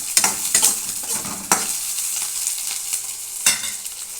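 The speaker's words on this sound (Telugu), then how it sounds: "గోల్డెన్ కలర్ వచ్చేదాకా వేపుకోవాలండి ఉల్లిపాయలు." Sliced onions fry in a hot pan with a bright, continuous sizzle, broken by several sharp scraping stirs, all close and fairly loud with no talking.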